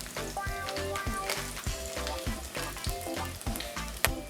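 Black pepper fries in hot oil for a one-pot Ritz chicken dish: a loud, steady close sizzle with regular rhythmic scraping or stirring beats running through it, and no voices.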